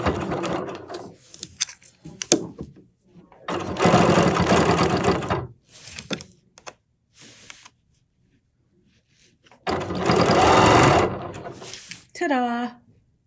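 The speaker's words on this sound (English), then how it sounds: "if you wanted to just take a stitch down the middle of one of these fabrics, that's fine too" A sewing machine stitching quilt fabric for string blocks, running in three bursts of a few seconds each with quiet pauses between, close by, and a person talks in the gaps.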